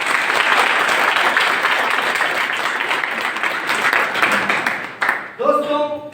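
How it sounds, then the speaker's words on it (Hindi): Audience applause after a two-hour training session, dense steady clapping from a crowd that fills the room, then tapers off near the end as a voice begins speaking. "जबरदस्त तालियां।"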